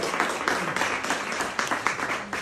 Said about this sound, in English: A big round of applause for Sophie, who's here this evening.